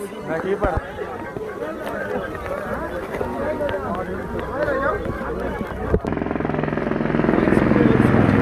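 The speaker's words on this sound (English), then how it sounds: "Helicopter." A helicopter's engine and rotor drone steadily nearby at Kedarnath in the snow mountains, growing louder toward the end, with people chattering in the background.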